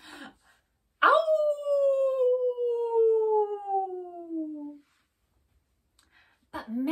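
A child-like voice imitates a wolf howl, one long rising then slowly falling 'owww' lasting several seconds, close and loud, with brief talk before and after.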